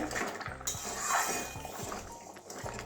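A metal lid lifted off a cooking pot of dal, with clinks and scrapes of metal over a quiet, repeating low kitchen hum, the contact sounds close and moderately soft.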